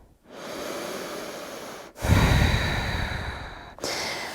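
Slow, deep breathing during a yoga session: two long, audible breaths, each a drawn-out inhale or exhale, close to the microphone with brief pauses between them and no talking.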